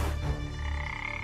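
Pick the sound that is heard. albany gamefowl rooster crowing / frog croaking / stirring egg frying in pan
frog croaking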